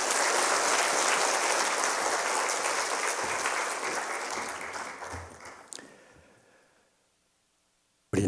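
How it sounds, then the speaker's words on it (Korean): Warm applause from a church congregation at a Wednesday worship service fills the room, thick and even at first, then thins and fades away into near silence before a brief sound at the very end. "뜨거운 박수로 맞이하겠습니다."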